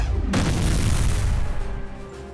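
A scatter shot explosion from the space strategy game Sins of a Solar Empire erupts as a loud, sudden boom that swells into a long rumbling blast and slowly fades, with no talking.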